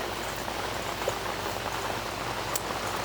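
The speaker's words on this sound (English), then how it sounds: "Well, it's starting to rain" Rain begins falling over a market garden, a steady, even hiss of raindrops pattering on surfaces nearby, with no one speaking.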